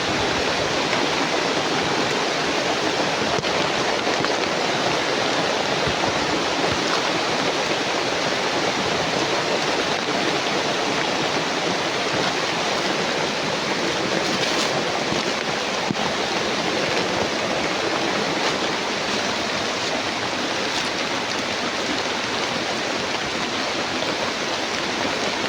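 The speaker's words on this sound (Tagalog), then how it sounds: "sobrang lakas ng ulan" Very heavy rain pours in a dense, steady roar, loud and unbroken throughout, like a constant wash of water with no voices or other sounds standing out.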